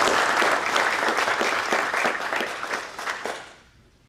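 A crowd applauds steadily, a dense patter of clapping that fades away toward the end.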